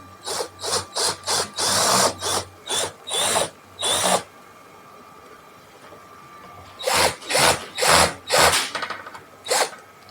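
Repeated short bursts of a power drill driving a screw into wood, whirring in quick succession, a pause, then several more bursts, loud and close with no talking.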